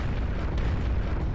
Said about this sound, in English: As the director said that, we could hear a series of explosions.